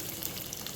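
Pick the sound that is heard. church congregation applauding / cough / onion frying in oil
onion frying in oil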